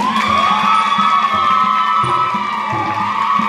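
Crowd at a Thai folk verse-singing performance cheering and shouting loudly, a sustained roar of many voices with high whoops, close and continuous, with no distinct clapping standing out.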